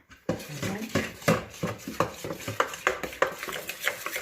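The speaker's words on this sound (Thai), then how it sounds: "แล้วก็คนให้เข้ากัน" Pizza dough mixture of flour being stirred in a bowl, with a rhythmic series of scraping, knocking strokes, close and moderately loud, speeding up slightly toward the end.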